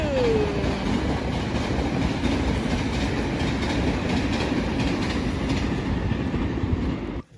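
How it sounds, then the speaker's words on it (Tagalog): A train rolls past on the rails in a snowy Japanese setting, a loud, continuous rumble with clickety-clack wheel rhythm and a brief squeal near the start, holding steady before cutting off at the end. "Train!"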